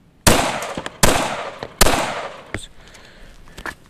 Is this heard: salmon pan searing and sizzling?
no